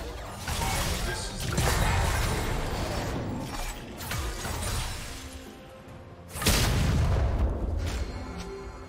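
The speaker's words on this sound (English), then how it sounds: "Blue team's turret has been destroyed." A turret crumbles in League of Legends with heavy booms and shattering crashes, a sustained rumbling collapse followed by a second loud impact burst, with no speech.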